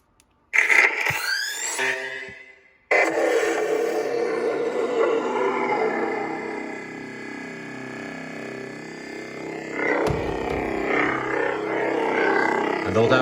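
A Ballistic Soldier edition lightsaber hilt running the Binary Dark sound font hums loudly and steadily, with a sharp ignition burst at the start and a swelling swing surge near the end, with no talk over it.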